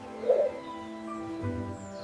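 A dove gives a soft, low coo near the start and another fainter one later, set over a steady tonal background.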